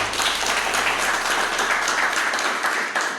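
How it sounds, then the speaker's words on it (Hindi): Crowd at an awards event claps for a man named Ashish, loud steady applause filling the room, with a low hum early on and a slight fade near the end. "मैं ये चाहता हूँ कि उसके लिए फिर से एक बार ताली बजाएं आशीष"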